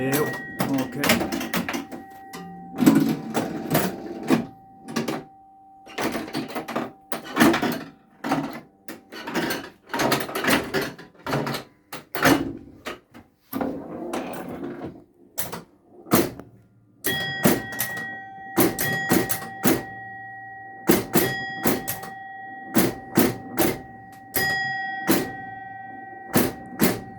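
A 1964 Williams Whoopee pinball machine in play gives off sharp bumper and flipper clacks and ringing bell chimes, busy and irregular, with someone talking over much of the action.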